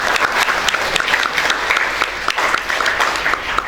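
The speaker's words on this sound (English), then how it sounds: "Can you have a huge round of applause for her?" Steady applause from a sizable audience, dense clapping that continues evenly throughout without voices standing out.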